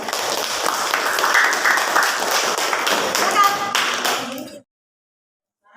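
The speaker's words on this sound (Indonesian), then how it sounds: "Jadi tepuk tangan sekali lagi untuk kelompok 3." A classroom audience claps for a student group that has just finished presenting, a dense, steady burst of many hands that stays loud for about four and a half seconds, then stops abruptly into silence.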